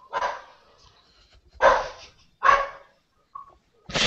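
A dog barks in a few loud, separate bursts with short pauses between them, close by and with no talking.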